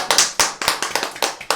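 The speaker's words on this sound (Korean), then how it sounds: "우리의 기도를 들으신 주님께 영광의 박수를 올려드리겠습니다" A small congregation claps in a church prayer meeting, a short burst of distinct, slightly uneven claps close by with no talking over them.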